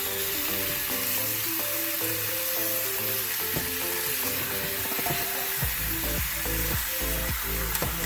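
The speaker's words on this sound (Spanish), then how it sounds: "Seguimos cocinando ahí hasta que nuestro pollo esté totalmente dorado de ambos lados." Chicken frying and browning in a pot for Dominican asopao, a constant close hiss of sizzling oil running for several seconds with faint tonal music underneath and no talk.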